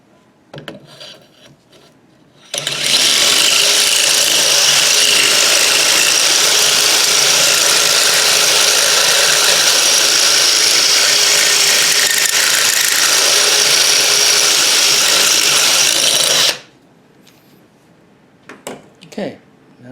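A power reamer cuts out an MP5 ICS charging tube part, a loud, steady grinding whir running about fourteen seconds between quiet stretches with small handling noises.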